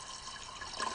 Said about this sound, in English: Looks like 1 gallon hasn't even got us up to the low line yet. So let's keep pouring.